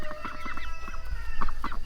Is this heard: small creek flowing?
no